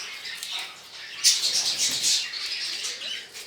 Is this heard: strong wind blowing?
no